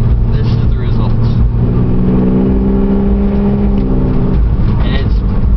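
A 3G Mitsubishi Eclipse GT with a single-chamber Flowmaster and 2.5-inch straight-pipe exhaust revs loudly up close, its engine note climbing and sustaining before dropping back, then blipping again.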